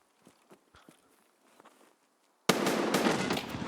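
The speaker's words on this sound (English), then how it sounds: "I'm gonna throw a nade into the log cabin" A grenade lands in a log cabin in Escape from Tarkov and detonates with one loud, close blast that fills the last second after a stretch of faint footsteps and quiet game noise.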